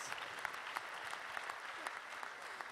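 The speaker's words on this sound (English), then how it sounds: "Let's give her a round of applause." Audience at a hacker conference talk breaks into applause, a continuous dense wash of many hands clapping, faint and distant, holding evenly throughout.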